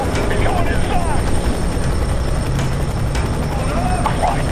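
Helicopter in the video game Fear 3, a steady loud rotor drone filling the whole stretch amid combat game sounds.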